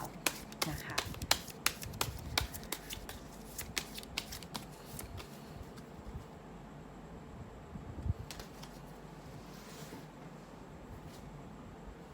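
Tarot cards are shuffled quickly in close, repeated riffles and soft slaps. The cards are loudest in the first half and taper to lighter handling later, and a quiet voice can be heard faintly underneath.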